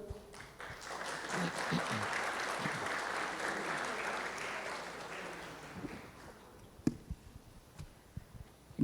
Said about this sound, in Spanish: al público también por los aplausos que han brindado al doctor